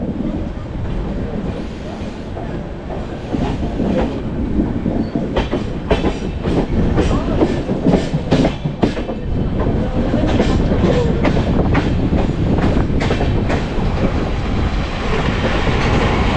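Porbandar Express rolling along the Konkan Railway near Sangameshwar, a loud steady rumble with repeated clickety-clack of wheels over rail joints and some wind buffeting throughout, no voices.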